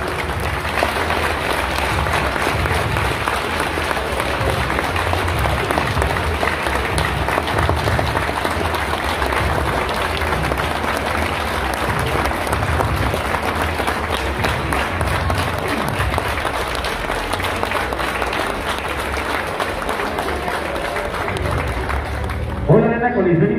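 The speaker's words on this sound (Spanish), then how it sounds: "Pido a todos ustedes, también al público, un aplauso" A coliseum audience claps in loud, sustained applause that fills the whole stretch with dense crowd noise, and a few voices mix in near the end.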